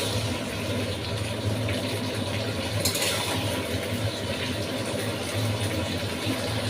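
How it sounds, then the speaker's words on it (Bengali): Chili chicken frying in a pan while being stirred, a steady dense sizzle that holds at an even level throughout with faint scraping underneath. "এইভাবে আমি এটা আরও কিছুক্ষণ ভেজে নেব।"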